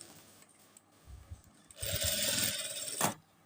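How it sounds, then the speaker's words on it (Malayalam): A sewing machine double-stitches the shoulder seam of a kurta for a young boy: a few short, quiet starts, then a steady close whirring run of about a second that stops abruptly. "ഷോൾഡർ ജോയിൻ ചെയ്യുമ്പോൾ ഡബിൾ സ്റ്റിച്ച് കൊടുക്കണം."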